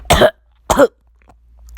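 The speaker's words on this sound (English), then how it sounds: "Zabuza would then cough" Two sharp, close coughs, a brief pause between them, followed by near silence.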